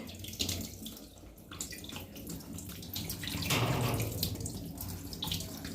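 Hands being washed with soap under a running kitchen tap after cleaning fish, a steady close stream of water splashing into a sink with small shifts as the hands move, no talk.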